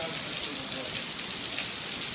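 Steady rain falling during a church gathering in Campo Grande, a soft continuous hiss of drops on surfaces, even and unbroken throughout, fairly faint with no voices heard.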